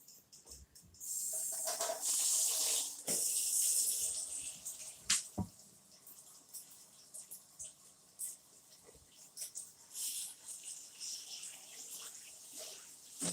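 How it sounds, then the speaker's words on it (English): A pot lid washed under a running tap, with a bright hiss of flowing water for a few seconds, then clattering, splashing and dripping at close range, with people talking nearby. "I need to wash the lid."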